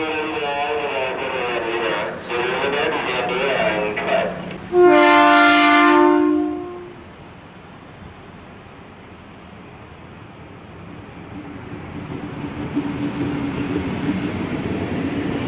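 A commuter train at Bekasi station bound for Kampung Bandan, with a loud horn blast sounding over rolling rail noise, then a quieter rumble as the train moves along the platform.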